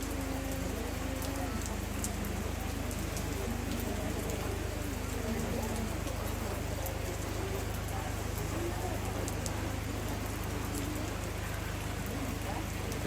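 Steady rain pours outdoors during an Indonesian memorial worship service, a dense continuous hiss of drops on surfaces throughout, with faint voices and a low hum beneath.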